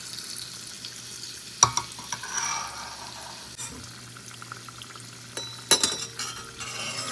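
Sweet pitha frying in hot oil in an iron wok, a steady soft sizzle with occasional metal clinks and scraping, close and moderate with no talking.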